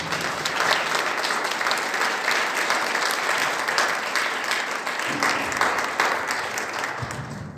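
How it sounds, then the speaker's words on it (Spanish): A church congregation breaks into sustained, dense applause during an Easter sermon, steady and loud throughout with no voices standing out. "Denle un aplauso al Señor."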